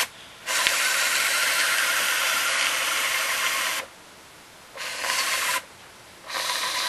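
A clothes steamer hisses while steaming dreadlocks, coming in strong, close bursts of breathy hiss separated by short pauses.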